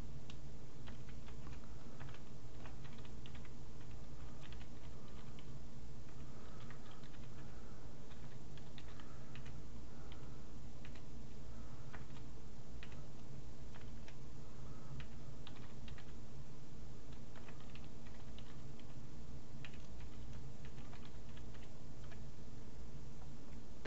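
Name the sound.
typing C++ code on a computer keyboard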